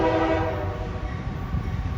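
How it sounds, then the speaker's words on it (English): Close and loud, a freight train led by a Union Pacific locomotive rolls south at Slaughters, Kentucky, its horn holding a steady sustained chord over the rumble and rattle of the passing cars. "This one's got a Union Pacific engine leading the way as it goes south at Slaughters, Kentucky."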